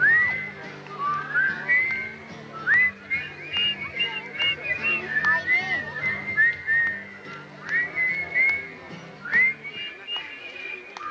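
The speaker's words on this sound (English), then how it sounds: "We're going to see if you can whistle the melody of the verse." A picnic audience whistles a song's verse melody together, many overlapping whistles wavering in pitch over a steady background hum for about eleven seconds, with no talking.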